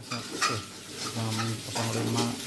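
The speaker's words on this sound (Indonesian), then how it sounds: "jadi lagi masak nasi goreng buat OTW mancing di Bagan Domas" Fried rice stirred in a frying pan, a spatula scraping and clinking in short strokes over a steady sizzle, close and moderately loud, with a faint background tone.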